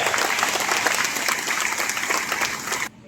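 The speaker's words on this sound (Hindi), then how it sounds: "तो जोरदार उनका ताली से स्वागत किया जाए।" Steady, dense applause from a crowd at a Catholic men's annual general assembly in Mandar, many hands clapping continuously before cutting off abruptly near the end.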